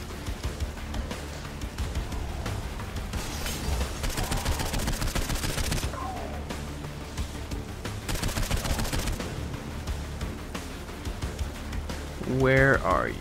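Rapid automatic gunfire in the video game Saints Row 4 comes in dense bursts under game music and sound effects. A voice talks over part of it, and a rising electronic whoosh comes near the end.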